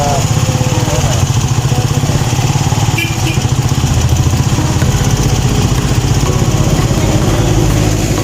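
A motorcycle engine runs loud and close with a rapid, buzzing putter that holds steady throughout, a few faint voices mixed in underneath.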